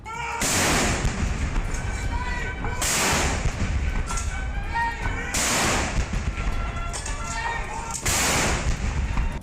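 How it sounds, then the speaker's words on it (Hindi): Four heavy blasts from Indian-made artillery guns firing an Independence Day salute at the Red Fort, Delhi, boom out at steady intervals of a couple of seconds, each followed by a long rumbling echo under continuous background noise. "अब स्वदेशी तोपों से सलामी"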